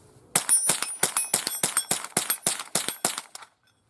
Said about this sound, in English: you know, it's not as fast as I could pull the trigger, but we're doing rapid fire here